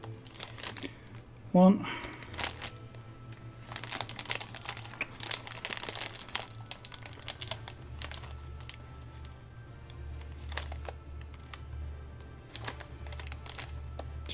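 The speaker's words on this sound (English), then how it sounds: "I finally succumbed and ripped the top off of this bag" A plastic bag of parts for a Tamiya Volvo FH12 1/14 scale RC truck kit is ripped open with a sharp tear near the start, followed by continuous close crinkling and rustling while a man counts aloud.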